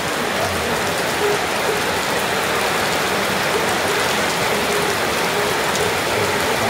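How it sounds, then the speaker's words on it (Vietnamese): Steady rain falls and patters densely on surfaces nearby, an even, continuous hiss with no talk over it. "Chắc trời mưa, chắc có chuyện nghe không rõ gì mấy."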